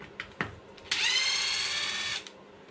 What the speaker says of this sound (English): Then we're gonna grab our other drill bit. All these small screws gotta come out.